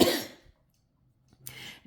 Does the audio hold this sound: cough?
yes